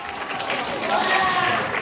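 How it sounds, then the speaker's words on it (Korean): Middle school students applaud two classmates during an anti-smoking education quiz, a brief burst of crowd clapping heard indoors under some voices. "우리 두 친구에게 축하의 박수 부탁드리도록 하겠습니다"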